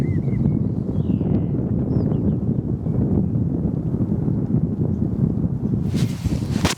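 Wind blows across a lake during a fly-fishing outing, buffeting the microphone with a loud, continuous low rumble and roar from start to finish.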